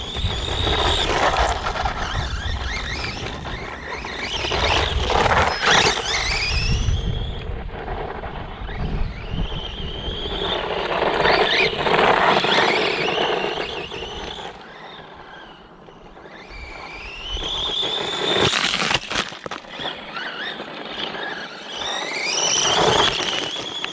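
A ZD Racing brushless 1/16 RC desert buggy tears over rough ground, tarmac and bumps, its motor whining in repeated rising and falling revs with wind buffeting the microphone throughout.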